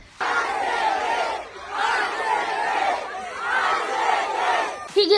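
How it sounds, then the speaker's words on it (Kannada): Crowd of RCB cricket fans outside the ground before an RCB vs CSK match chanting in unison, with three or four swelling rhythmic chant phrases separated by brief pauses, loud but a little distant. "ಇಲ್ಲಿ ನೋಡಿ ಯಾವ ರೀತಿಯಾಗಿ ಫ್ಯಾನ್ಸ್ ತಮ್ಮ ತಂಡಕ್ಕೆ ಇನ್ನು ಮೈದಾನಕ್ಕೇನೆ ಹೋಗಿಲ್ಲ ಆಗ್ಲೇ ಚಿಯರ್ ಅಪ್ ಮಾಡ್ತಾ ಇದ್ದಾರೆ"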